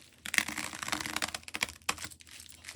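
A band on a body lotion package is torn open up close, giving a quick, crinkly ripping of plastic and paper with sharp crackles over a few seconds.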